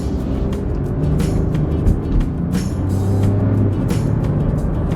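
Engine of a 2024 Buick Envista at a steady drive, a throaty small-engine drone with road rumble filling the cabin, low and continuous throughout.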